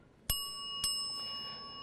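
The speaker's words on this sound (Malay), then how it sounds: "loceng akan dibunyikan sebanyak 2 kali." A debate timing bell struck twice, two bright metallic dings with a ringing tail, fairly faint in a quiet room.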